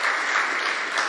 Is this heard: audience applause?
yes